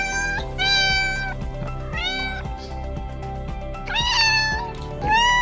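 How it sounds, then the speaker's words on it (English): A domestic cat meows clearly and up close, giving four drawn-out, rising-and-falling meows spaced about a second apart, with nothing else audible around them. "It is a cat."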